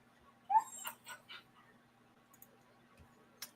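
A dog whimpers and yips in a few short, soft bursts in a quiet indoor room, with long pauses between them and one brief final sound.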